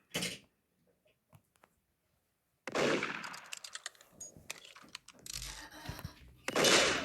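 Gunshots in a Roblox murder-mystery game, a few sharp isolated cracks early on, then louder bursts of rapid firing with clicks and clatter after a short quiet stretch.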